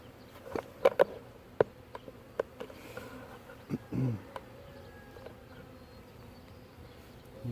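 Honeybees from a recovered swarm drone softly around a tree, a steady faint insect hum with scattered sharper clicks and taps over it, the buzzing stays close and continuous throughout.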